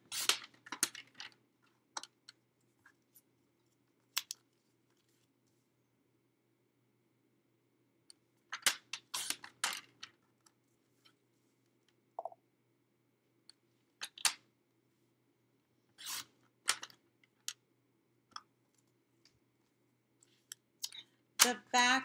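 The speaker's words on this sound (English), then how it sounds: "Just to trim off those edges." Edges of alcohol-ink art cards being trimmed against a straight edge, sparse crisp cutting clicks and snips in scattered clusters separated by long quiet gaps.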